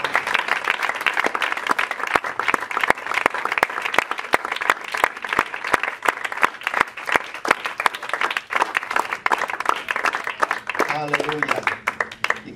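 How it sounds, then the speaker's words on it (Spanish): A church congregation breaks into loud, sustained applause during a Spanish-language sermon, dense clapping filling the whole stretch before a voice begins speaking near the end. "Denle fuerte el aplauso al Señor."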